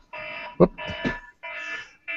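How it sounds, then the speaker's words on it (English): An electronic alarm beeps in repeated bursts with short gaps, while a voice briefly exclaims partway through. "That's my alarm"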